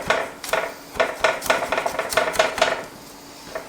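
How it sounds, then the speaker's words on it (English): Garlic is chopped finely with a knife on a cutting board in a kitchen, a quick run of sharp, close taps in uneven bursts, then slowing to a few final strikes. "Another garlic here. I'm going to chop this up fine."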